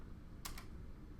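A few quick keystrokes on a computer keyboard as a web address is typed, two short close clicks in an otherwise quiet room.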